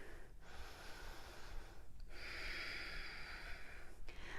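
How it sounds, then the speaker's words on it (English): Heavy, audible breaths during a power vinyasa yoga flow, sustained exhales broken by two sharp gasping intakes, close and moderately loud. "Breathing here."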